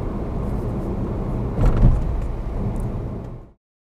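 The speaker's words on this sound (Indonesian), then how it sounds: "Sama suara lantai ya, roda gitu," Steady low rumble of floor and tires inside a Wuling Air EV while driving, with a brief louder thump partway through as if over a bump, then cutting off abruptly near the end.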